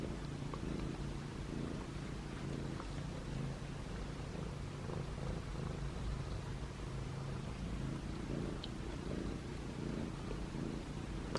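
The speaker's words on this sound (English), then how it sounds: "He's purring." Steady, continuous purring from a feral cat being petted indoors, a soft low rumble that runs the whole time at a quiet level with no talking.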